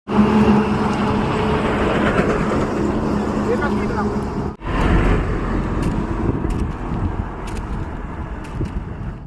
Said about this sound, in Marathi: रोडवरून सतत गाड्या जात होत्या.